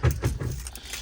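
A bunch of keys jangling close up while someone searches for the key of a car with a straight-pipe exhaust, a brief metallic rattle of a few quick shakes lasting about a second.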